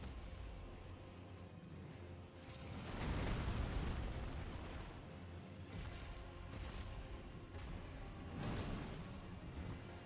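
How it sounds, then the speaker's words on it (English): A flying dragon's fire breath in a Souls-style video game roars as a broad, rumbling whoosh that swells twice, steady and low in level with no talk over it. "Ooh, that fire's scary, Daryl."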